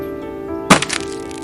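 A single sharp wooden crack as a large banyan tree splits, followed by a brief splintering rattle that quickly fades.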